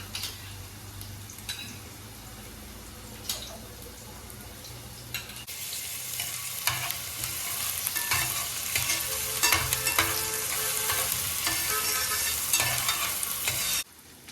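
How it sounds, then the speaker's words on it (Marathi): Ginger-garlic paste sautés in a pan for crab masala, a steady close sizzle with scraping stirs and ticks, growing louder and more crackly halfway through as more goes into the hot oil. "चांगलं परतवून घ्यायचं आहे अद्रक लसूणची पेस्ट"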